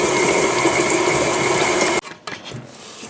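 An electric mixer beats chocolate chip cookie batter at a steady medium-fast speed, a loud continuous mechanical whir that suddenly cuts off, followed by a few faint clatters.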